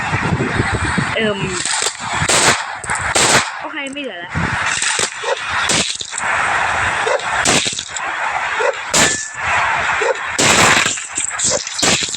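Sharp bursts of video game gunfire crack out in scattered single shots and short volleys, loud and close, while a person talks over much of it.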